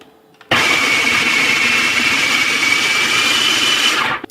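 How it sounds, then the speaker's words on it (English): A food processor whirs loudly and steadily for about four seconds, blending taco-flavored vegan hummus, starting abruptly and cutting off at the end. "And then we're gonna just blend it up or process it up."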